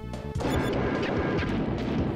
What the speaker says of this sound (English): By smashing signposts, cars, and sometimes walls, you can find the weapon